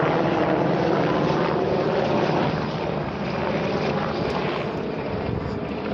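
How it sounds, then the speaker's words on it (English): Aircraft from an air force base about two miles away roar steadily overhead outdoors, a broad continuous rumble holding loud throughout with no voices. "Mather Air Force Base is like 2 miles down the street, so you're gonna hear a lot of planes."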